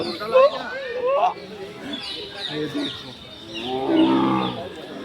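A white tiger at a zoo in Surat gives low, throaty growls and rumbling roars, mixed with people talking nearby.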